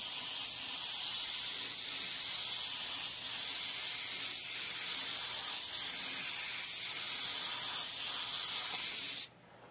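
A spray can lays light, even sealing coats on a Chevelle car part, producing a steady, loud hiss that runs unbroken for several seconds and then cuts off abruptly.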